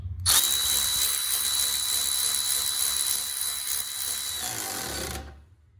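Milwaukee M12 Fuel 3/8 cordless ratchet tightening a bolt held in a vise, a loud steady high-pitched motor whine for about five seconds that stops abruptly.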